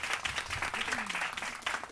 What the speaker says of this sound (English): you can applaud, audience